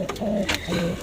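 A carrier pigeon coos close by, with two soft rounded coos in about a second.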